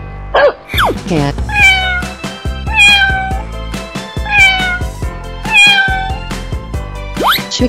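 Cartoon cat meowing several times in drawn-out rising-and-falling calls over bouncy children's music, loud and close.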